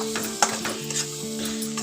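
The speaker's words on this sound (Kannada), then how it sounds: "ಬಾಳೆಕಾಯಿನ ಹಾಕ್ಕೊಂಡ್ಬಿಟ್ಟು ನಾವು ಇವಾಗ ಚೆನ್ನಾಗಿ ಫ್ರೈ ಮಾಡ್ಕೋಬೇಕು ಎಣ್ಣೆಯಲ್ಲಿ" A brief burst of raw banana sizzling in hot oil, with a light scrape of a utensil stirring, no voices.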